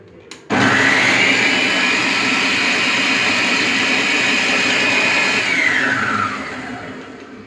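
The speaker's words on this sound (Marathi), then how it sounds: "त्यामुळे मी पीनट बटर बंद चालू करून तुम्हाला वाटून दाखवते।" A mixer grinder grinds peanuts into peanut butter, its motor snapping on with a loud, steady high whine that holds for several seconds before slowing and winding down.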